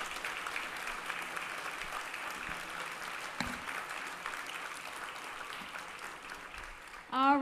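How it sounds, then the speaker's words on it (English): An audience at an author talk applauds, a soft, distant wash of clapping running under the room's ambience for several seconds, with a brief louder sound at the very end. "Let's give a big Columbus round of applause for Will Haygood."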